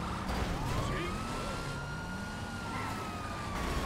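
A police car siren in the video game GTA V wails continuously in rising and falling sweeps, loud and steady over a dense background of game noise, with no speech.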